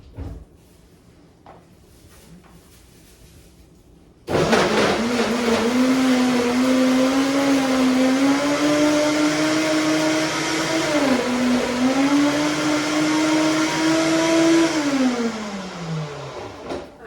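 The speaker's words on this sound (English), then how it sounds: "And then my wife is gonna go over there and gonna blend it" A Vitamix blender whirs up a plant-based ice cream mixture, switching on abruptly after quiet room sound and then roaring loud and close, its pitch rising slowly before it winds down.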